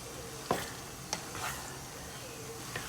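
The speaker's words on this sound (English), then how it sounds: "Give it a good stir so that that garlic can get all around" Garlic is stirred into chili in a pot, a soft steady sizzle with a few light scraping clicks of the spoon, close and fairly quiet with no talk.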